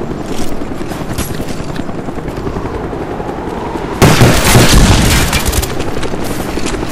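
A Cobra attack helicopter arrives in Call of Duty: Black Ops, its steady rotor drone running under continuous gunfire and booms, and a louder burst of blasts and rumble swells in at the midpoint.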